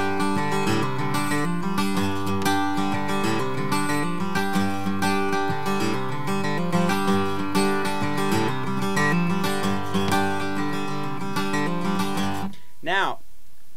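Acoustic guitar chords played with an alternating bass-and-treble picking pattern, steady and close, ringing continuously before a short final strum and a brief wavering note at the end.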